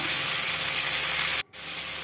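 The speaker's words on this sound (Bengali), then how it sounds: "দেখুন ঝিঙে আলু এরকম ভাজা হয়ে গেছে" Ridge gourd and potatoes fry in a pan with a dense, continuous sizzle close by, cut by a sudden momentary gap before the hiss resumes.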